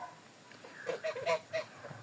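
Several domestic grey geese honk in short, nasal calls, a quick cluster of squawks at moderate distance over a faint background hum.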